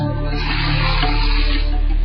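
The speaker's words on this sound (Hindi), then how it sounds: "अपने आप ही जमीन से निकल रही है ये जलधारा।" Water gushes steadily from a tube well in the Jaisalmer desert sand, flowing on its own without a motor or electricity, a loud, close, continuous rushing stream.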